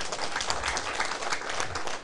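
An audience claps at a lecture of the Taiwan Civil Government law-autonomy academy: a dense, even patter of many hands, steady and fairly loud for about two seconds, dipping slightly at the end.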